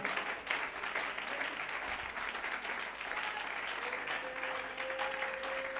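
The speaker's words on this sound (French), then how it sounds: "Can you give a hand of clap to the Lord?" A church congregation applauds during a bilingual French and English worship service, a dense, sustained clapping that fills the space evenly and stays loud from start to finish.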